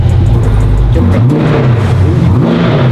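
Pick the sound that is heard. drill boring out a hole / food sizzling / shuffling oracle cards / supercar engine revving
supercar engine revving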